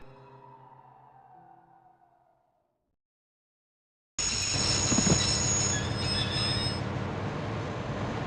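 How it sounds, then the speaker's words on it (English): A train in the Broken Sword adventure game, Scotland stage, grinds to a halt with loud, steady rumbling and a high metallic wheel squeal that starts abruptly after a silent gap, following fading music. "I'd always wanted to stop a train, and now was my chance."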